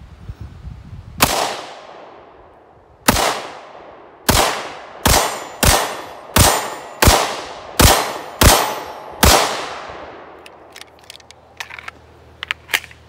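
Rounds of 5.7mm Sparky ammo fired from an FN Five-seveN pistol strike a steel plate, giving about ten loud, sharp metallic clangs. The first few come spaced apart, then a rapid steady string follows, each hit ringing out briefly.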